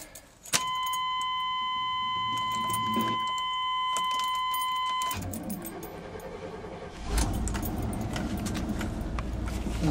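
A 1993 Chevy Cheyenne 2500 truck is started: keys jangle and a steady chime rings, the starter cranks and the engine catches, then settles into a loud, close idle that swells again as it revs.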